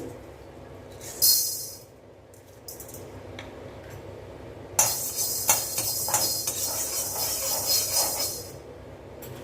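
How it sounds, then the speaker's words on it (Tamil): Urad dal is dry roasted and stirred in a pan, giving scattered bursts of dry rattling and scraping, with quieter gaps between and a longer stretch of busy stirring toward the end. "உளுந்து நல்லா வாசம் வர வரைக்கும் வறுத்துக்கலாம்"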